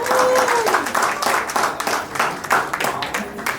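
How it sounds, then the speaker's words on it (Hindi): Guests at a haldi celebration clapping for Rani and Pooja's performance, a lively uneven burst of applause close by with voices and cheers mixed in. "रानी और पूजा के लिए जोरदार तालियां बजाइए"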